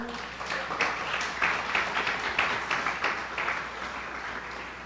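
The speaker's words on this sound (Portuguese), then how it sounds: "Dê uma salva de palmas ao Senhor." A church congregation at Igreja de Nova Vida do Catete claps for the Lord, a broad, sustained roomful of applause that swells in loose waves and stays steady to the end.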